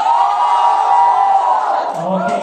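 An indoor event crowd of about 15,000 people screams and cheers: a loud, sustained roar of many voices filling the room for the whole stretch, fading slightly toward the end.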